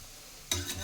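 Potatoes frying in a pan at home while a child's school lunch is made; after a half-second hush, a soft sizzle and stirring scrape start up close and carry to the end.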